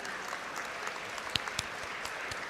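An audience applauds graduating students at a university convocation, a faint, distant patter of clapping with a few sharper claps standing out, heard through a live broadcast feed.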